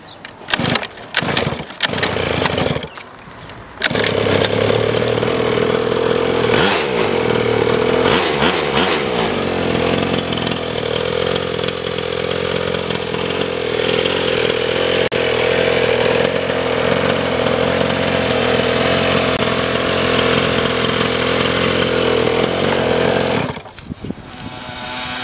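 A 50cc pocket bike engine sputters through a few short starting attempts, catches and settles into a loud, buzzy, chainsaw-like idle for about twenty seconds, then cuts off abruptly.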